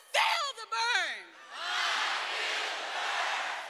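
At a Bernie Sanders rally in suburban Washington, D.C., a leader's shouted call gives way to a rising, sustained roar of cheering from a large student crowd that carries on to the end.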